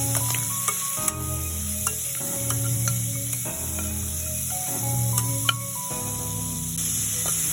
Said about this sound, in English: we're going to add our veggies and deglaze